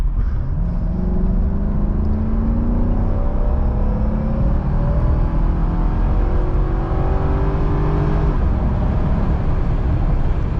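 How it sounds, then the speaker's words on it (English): A Mercedes SL500 V8 engine roar builds steadily as the car accelerates, rising in pitch through the gears, loud and close throughout. "Lovely V8 roar."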